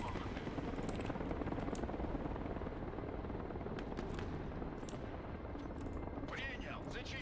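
A helicopter in the war video game Broken Arrow thrums steadily with a low rotor rumble, mixed with distant gunfire and battle noise, while voices talk over it.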